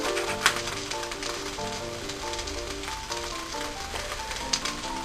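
Scrapple fries in a hot, slightly smoking pan, giving a steady, close crackling sizzle with dense spitting pops throughout and no talking.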